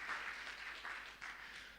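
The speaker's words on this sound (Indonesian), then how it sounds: "Boleh tepuk tangan bagi Tuhan." A church congregation claps for God during a sermon, a soft, distant patter of steady applause that wavers gently in strength across its short span.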